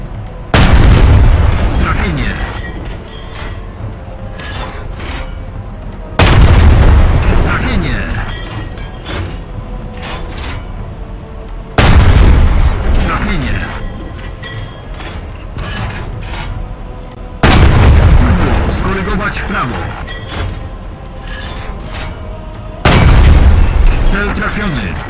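Five heavy tank-gun blasts in War Thunder, evenly spaced about every five to six seconds, each a loud booming shot that decays into a rumbling tail.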